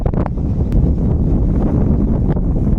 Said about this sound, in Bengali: এদিক দিয়ে দক্ষিণে হাওয়া হু হু করে আসছে